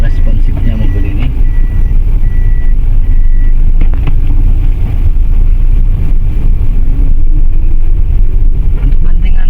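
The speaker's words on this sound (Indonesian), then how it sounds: "Kita tes jalan seperti apa responsifnya mobil ini." A 2014 Daihatsu Terios automatic SUV on a test drive: loud, steady engine and road rumble inside the cabin, with someone talking over it and a few light knocks.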